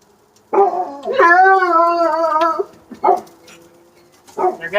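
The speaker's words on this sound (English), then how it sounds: "There go the dogs again." Dogs bark and let out a long wavering howl, loud and close, followed by more short barks and yips.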